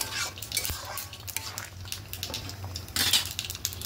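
A spoon scrapes and swirls through mung dal cooking in a pot, a soft continuous stirring with light metallic clinks and a low background hum.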